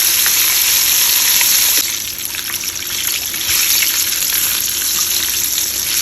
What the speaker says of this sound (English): Fish cooks fast, so when I'm heating the grease up, my fire is usually high, but once I put my fish in,